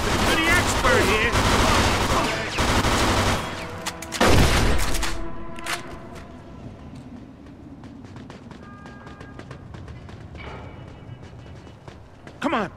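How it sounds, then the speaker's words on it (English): Loud gunfire in a Mafia II shootout: dense bursts of shots and rapid automatic fire, with a heavy blast near the middle. The shooting thins out afterward into scattered single shots and clatter over a lingering rumble. "They're shooting at me, for Christ's sakes!"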